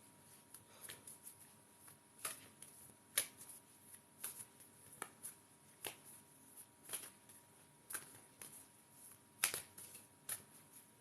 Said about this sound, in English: let's give these a good old shuffle